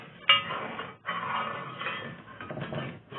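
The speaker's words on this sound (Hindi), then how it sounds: "और इसको हिलाते रहेंगे ताकि नीचे से लग नहीं जाए" A spoon stirs rasmalai milk in a metal pan, close up, with a sharp clink at the start followed by soft, continuous scraping against the bottom.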